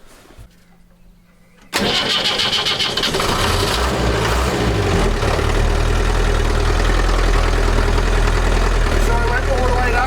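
A classic Land Rover engine cranks after a quiet start, catches and roars into life, then settles into a loud, steady idle with a deep rumble; a voice speaks briefly before it fires.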